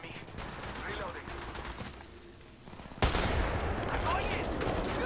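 Rapid bursts of automatic gunfire in Apex Legends Mobile, crackling fusillades that grow louder and denser partway through, with someone talking underneath.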